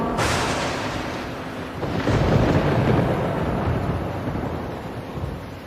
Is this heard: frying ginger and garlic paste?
no